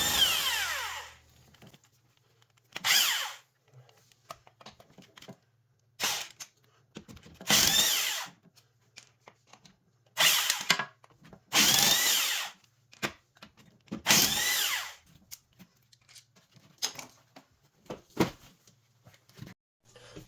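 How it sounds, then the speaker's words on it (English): A power tool removes 14 millimeter lug nuts from an ATV wheel in a series of short, loud whirring and rattling bursts separated by pauses and light clicks, close by with no talking. "Okay, I'm going to take the lug nuts off."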